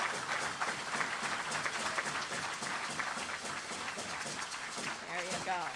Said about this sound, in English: help me welcome with a great big round of applause and appreciation